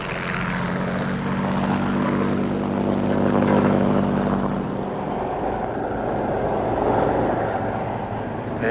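A propeller aircraft takes off from a runway, its engine drone steady and loud throughout and swelling slightly in the middle, heard without speech.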